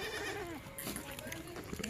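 Kathiawadi goats bleat in quick wavering cries, with people talking and laughing over them nearby.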